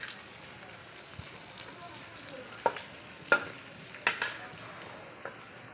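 A spoon stirs a mustard soybean dish in a hot pan, soft sizzling throughout with several sharp scraping knocks against the pan, and a voice speaks faintly nearby.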